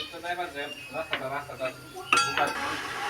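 A metal spoon scrapes and clinks against a cooking pot as rasmalai sweets are stirred, a few irregular knocks and rattles close by, with someone speaking over the stirring.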